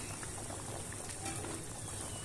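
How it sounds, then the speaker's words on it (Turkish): A pot of lentil soup bubbles steadily at a low simmer, a soft continuous gurgle heard close up with no talking. "Mercimek çorbamız kaynıyor."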